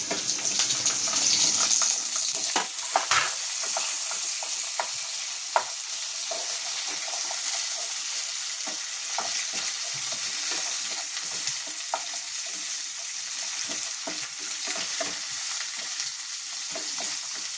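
Tomatoes added to boti (meat) frying in a pan give a loud, continuous hiss and sizzle, close up, broken by scattered clicks and scrapes of stirring, with no talk.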